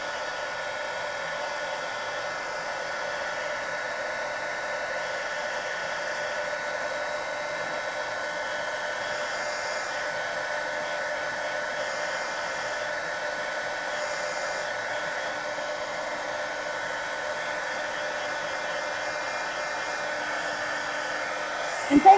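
A hair dryer runs steadily and continuously for over twenty seconds while drying a sketchbook page, a constant airy whir with a small knock at the end.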